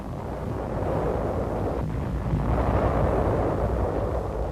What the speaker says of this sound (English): Tokashiki under fire from guns emplaced on the nearby island of Garuma